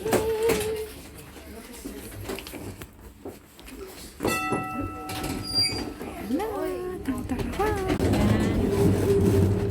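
Train ride on the Museilinjen in Malmö, Sweden: rumbling rail noise and squeals build under nearby voices talking, with shifting mechanical tones as the ride proceeds.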